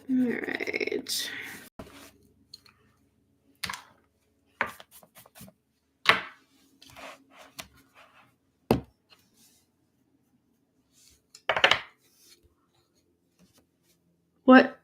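A cream colored pencil scratches across a coloring book page as a blender, making short, close strokes in scattered bursts separated by near silence.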